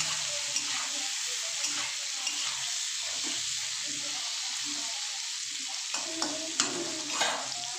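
Pieces of pointed gourd (potol) sizzle in oil in a pan, a steady, moderately quiet frying hiss punctuated by soft scraping stirs and a few clinks of a utensil toward the end.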